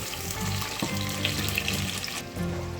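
Onions frying in a pan as ginger paste goes in, a steady broadband sizzle with a brief clatter partway through and a low hum beneath, close and continuous with no talking.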